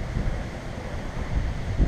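Strong gusting wind, around 50 mph, buffeting outdoors during a DJI Mavic 2 Pro drone flight, a steady loud low roar of wind noise with no distinct voices.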